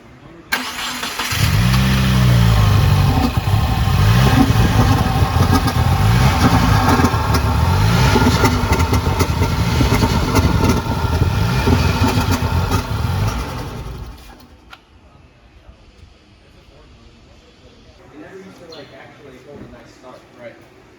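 A Subaru WRX with an FA20DIT engine runs loud and steady with irregular pops from the intake, then cuts off abruptly, leaving quiet room noise and faint voices in the background.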